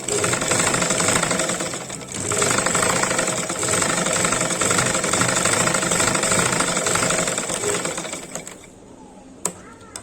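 A sewing machine stitches the hem of an eight-panel skirt in a fast, steady mechanical chatter, running in two long bursts with a brief pause between, then stopping near the end.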